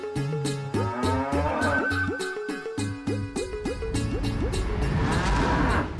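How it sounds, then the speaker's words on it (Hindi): A buffalo moos in a series of loud, close, drawn-out calls, several bellows in a row with brief pauses between them, with no talking over them. "वो काली वाली भैंस है ना, उससे जाके ले लो।"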